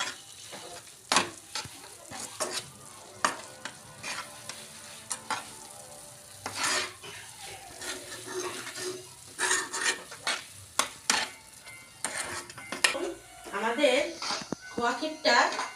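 Khoya kheer being stirred in a kadai as it thickens and pulls away from the sides, with repeated scraping and clinking strokes over a faint sizzle, while a person talks throughout.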